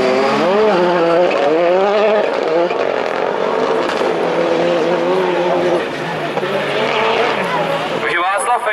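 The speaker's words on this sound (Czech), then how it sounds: "Na to, že má Dušan čtyřkolku, tak prostě zahrabali přední kola, auto se pomalu odlepilo ze startu." A four-wheel-drive touring race car at Přerov 2017 pulls away from the start, front wheels digging in, with loud sustained engine roar and revving pitch sweeps over a commentator's continuous talk.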